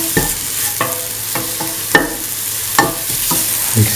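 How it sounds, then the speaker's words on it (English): A spoon stirs salt into a carrot and yogurt mixture in a bowl, making repeated close scraping clinks at an uneven rhythm with a faint hiss between strokes. "Mix in the salt,"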